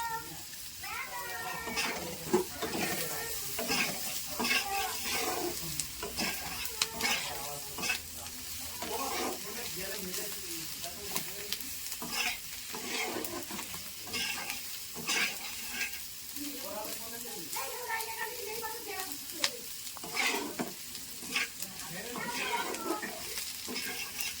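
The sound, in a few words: spice paste with tomatoes being stirred and fried in pan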